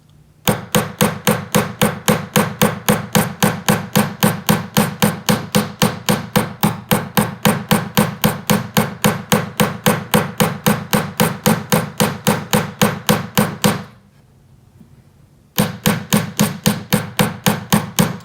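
Rapid, steady hammer blows texturing a wide metal ring band, close and loud, sharp metallic taps in a fast even rhythm, pausing briefly near the end before resuming.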